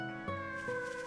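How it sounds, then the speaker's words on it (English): A cat meowing in the video game Zwei!!, a single drawn-out plaintive meow with a wavering tone, clear and close. "Okay, there's a crying animal. There's a well. Oh, there's a kitty! I can hear a kitty!"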